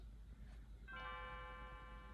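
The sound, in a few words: bell ringing in video game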